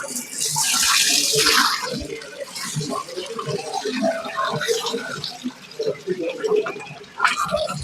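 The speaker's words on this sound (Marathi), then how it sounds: "आपण त्याला आखो एक पाणीवर धुई काढू." Soaked wheat being washed in water, close sloshing and splashing with a rush of running water at first, then irregular swishes and drips, with a voice talking over part of it.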